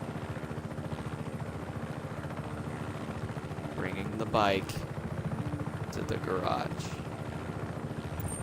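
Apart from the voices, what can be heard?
helicopter landing in the video game Just Cause 3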